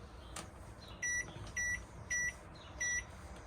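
Four short, high electronic beeps from a microwave keypad in a 2021 Forest River Cherokee Wolf Pup travel trailer, evenly spaced against a quiet room hum.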